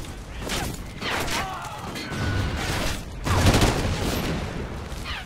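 Sustained gunfire and explosive rounds in the Call of Duty Ghosts video game, dense bursts of shots and blasts rolling on for several seconds with a louder surge near the end, heard without talk.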